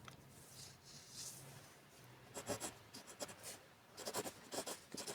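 Pen writing on paper during a Class 6 maths lesson, with soft intermittent scratching strokes in short bursts, close and fairly quiet, without talk.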